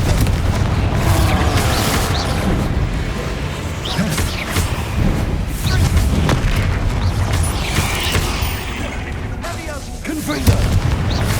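Booming fire-spell explosions from Confringo casts in Hogwarts Legacy, a continuous loud rumbling barrage of blasts and crackle with occasional sharper hits, a voice shouting over the din.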